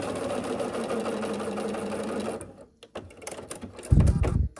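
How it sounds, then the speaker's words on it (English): Sewing machine stitching flying geese quilt blocks, a steady close mechanical whir and rapid needle patter for about two seconds before stopping, followed by fabric handling sounds and a brief low thump. "we're just going to sew down this side"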